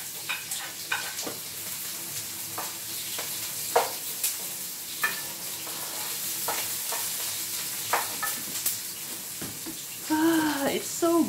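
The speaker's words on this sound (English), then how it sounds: "sauteing the trinity smells so good to me" Garlic and onion sautéing in a pan for a mussel tinola, a continuous sizzle with regular scraping stirs, and a voice talking near the end.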